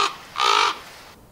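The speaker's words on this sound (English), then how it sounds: "Can hear a crow." A crow gives a single harsh, nasal caw in the horror game The Quarry, loud and close against a quiet background.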